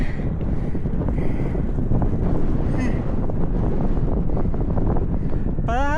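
Strong wind on a mountain in Mongolia buffeting the microphone in a loud, continuous roar with gusty low rumble; a voice is briefly heard under it.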